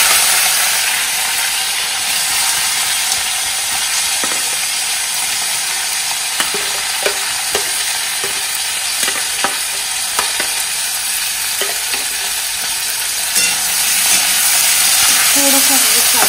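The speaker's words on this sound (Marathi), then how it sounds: "आणि आपण हे टोमॅटो, कांदा हे सगळं याच्यात थोडंसं फ्राय करून घ्यायचं," Tomato and onion frying lightly in oil, a bright constant sizzle with scattered clicks of stirring, close and loud throughout.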